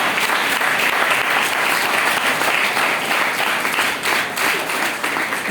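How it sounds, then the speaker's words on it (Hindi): Dense, sustained applause from a church congregation during an Easter sermon in Hindi, loud and steady throughout without a break. "बात पे तालियां होनी चाहिए।"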